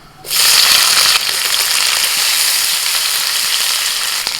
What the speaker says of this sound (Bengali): তেলের মধ্যে ফোড়ন দিচ্ছি দিচ্ছি পেঁয়াজ কুচি